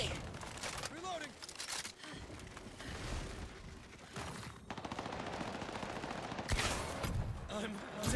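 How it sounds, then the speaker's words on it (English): Rapid bursts of gunfire crackle through a match of the shooter game Highguard, with mechanical clicks mixed in and a voice talking over the steady shooting. "They're shooting at me!"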